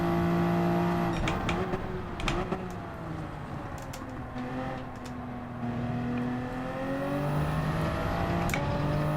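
A race car in Gran Turismo 7 running a lap, its engine holding a steady drone with rising and falling pitch across gear changes and quick shifts.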